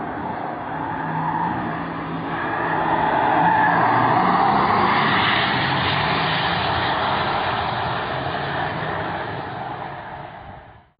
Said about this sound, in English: What you just heard is the sound of what I believe to be one of the best-selling Porsche EVs in the coming years.